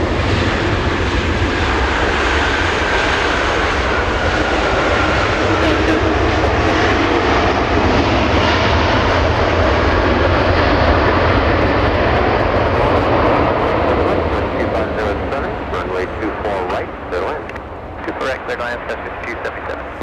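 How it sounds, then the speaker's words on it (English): A jet airliner roars down runway 24 left at Los Angeles International Airport on its takeoff run. The engine noise is loud and steady throughout and eases slightly near the end as the aircraft climbs away. "1515, RNAV Delray, wind 2507, runway 24 left, clear for takeoff"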